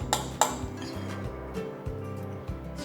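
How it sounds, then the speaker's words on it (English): A spoon scrapes and taps a dish while miso glaze is spooned onto aubergines, giving two bright clinks early on, then softer intermittent scrapes and knocks against the dish. "So just spoon them on, spread the mix out."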